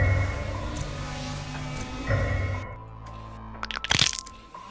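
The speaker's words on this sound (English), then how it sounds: "He broke my body." Sharp crunching cracks of a body being broken in the Roblox horror game Panik, a couple of loud close crunches near the end after droning game music.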